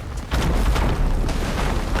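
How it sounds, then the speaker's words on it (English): Stacked powder kegs blow up in a pirate video game, a loud sustained booming roar that kicks in suddenly after a brief lull and rumbles on to the end. "Oh, that was such a good explosion."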